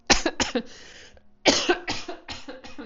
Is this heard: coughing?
yes